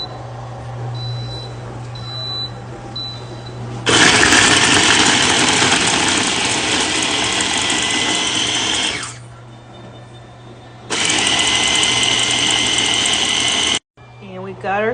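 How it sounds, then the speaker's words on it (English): A baby food maker purees carrots on its automatic setting, running in two loud sustained whirring bursts separated by a quieter pause, with a low hum beneath. "Now we are going to puree"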